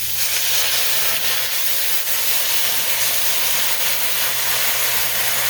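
Milk poured a little at a time into a hot pan for mushroom gravy with pork chops, giving a steady, loud, broad hiss and sizzle that holds evenly throughout with no talking.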